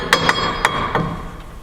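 A sledgehammer strikes the CV axle of a Mitsubishi L200, ringing out as four sharp metallic blows at an uneven pace over a steady background hum, close and loud.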